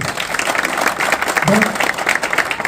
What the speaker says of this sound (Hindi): तो भाई एक बार जोरदार तालियों से भाव का स्वागत करो।